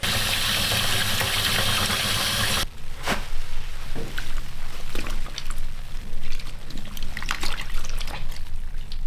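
Tap water runs and splashes steadily while a Roxy swimsuit is washed by hand, a loud gushing stream at first that drops to softer trickling and intermittent splashes with close handling noises.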